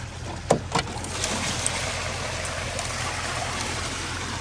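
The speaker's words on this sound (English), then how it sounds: "I gotta let some of this water out." Water drains steadily in a continuous rushing trickle, close and moderately loud, with a couple of sharp splashes or knocks near the start.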